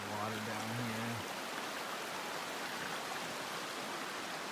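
The Salmonberry River in Oregon flows under a bridge as a steady broadband rush of stream water. A voice speaks briefly over it at the start.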